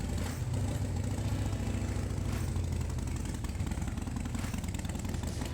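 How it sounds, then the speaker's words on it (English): A Harley-Davidson M8 motorcycle engine idling while the bike stands still, a steady low rumbling idle heard up close with no talk over it. "So start your engine, make sure there is no exhaust leaks, everything looks right."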